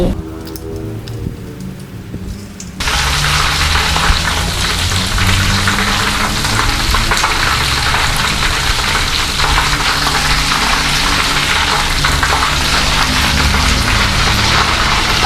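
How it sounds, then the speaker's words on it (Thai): Battered king oyster mushrooms drop into hot oil and burst into a loud, steady deep-fry sizzle that continues without a break after a quieter opening few seconds. "ต่อไปเราจะมาทอดเห็ดกันค่ะ อันนี้เป็นเห็ดนางรมหลวงนะคะ"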